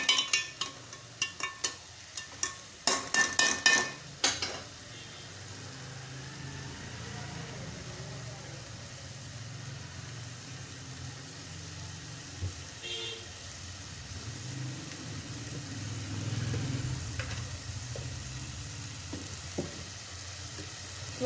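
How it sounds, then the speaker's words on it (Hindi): Urad dal roasting in a pan, with a burst of clattering utensil knocks at the start, then a quiet, steady low sizzle and rumble that swells slightly toward the end. "तो अब यहाँ पर हमारी दाल पक रही है, थोड़ी देर के लिए हम इसे पकाएंगे, भूनेंगे"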